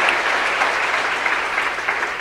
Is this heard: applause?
yes